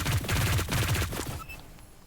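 Rapid bursts of gunfire from a weapon in the video game Hyper Scape, loud and close, with several quick shots in a row before the firing cuts off and the sound trails away.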